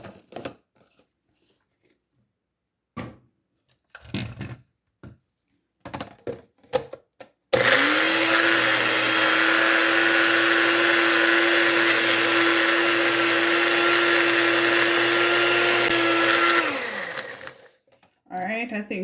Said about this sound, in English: We're going to blend.